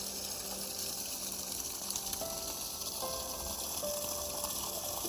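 Water runs steadily through a homemade pump working without electricity or moving mechanical parts, a continuous gushing flow with faint tonal whines drifting in and out, close and fairly quiet, no voices.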